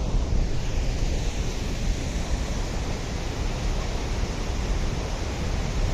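Water rushing along the Kankumbi water course in the Western Ghats, a loud, steady, broadband roar of flowing water close by, unbroken for the whole stretch with no voices.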